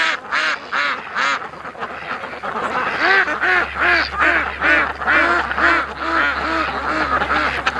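Ducks quack repeatedly and loudly at a lake, a dense rhythmic series of calls close by, with a steady low hum running underneath.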